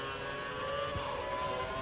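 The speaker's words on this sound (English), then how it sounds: "Renault powered engine." Renault-powered Formula 1 engine in the F1 2012 racing game at Singapore, a steady high-pitched whine held throughout with a second car briefly whooshing past, loud and without talk.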